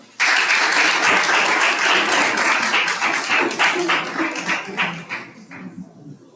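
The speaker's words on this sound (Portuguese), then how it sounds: "Nossas palmas." Audience applauding at a lecture event on human rights, steady broadband clapping from a sizable crowd that stays loud and then thins out and fades over the final second or so.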